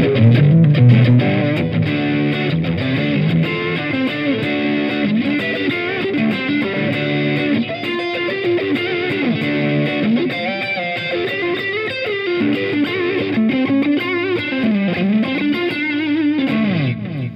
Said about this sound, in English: Classic, spanky, clean tele sounds right the way through.